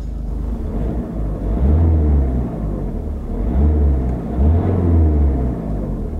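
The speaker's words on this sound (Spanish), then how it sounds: "Suena bastante en el interior de la cabina, pero es un diésel" Opel Crossland diesel engine heard from inside the cabin, a low, steady droning rumble that swells in a few gentle revving surges, with no talk.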